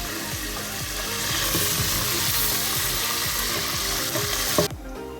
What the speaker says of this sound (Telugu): చికెన్ అంతా ఈ విధంగా ఫ్రై చేసుకున్నానండి